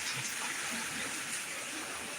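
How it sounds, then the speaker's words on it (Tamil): Heavy rain falls steadily as a soft, continuous hiss with no distinct drops standing out, brief and even in level. "மழை செம மழை பெய்யுது இங்க எங்க ஊர்ல"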